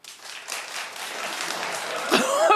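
A studio audience claps on a talk-show set, a thin scattered patter that swells louder near the end with a brief cough-like burst.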